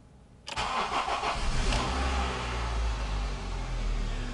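A Honda Civic engine cranks and catches after a long period of storage, starting suddenly and settling into a loud, steady, close idle.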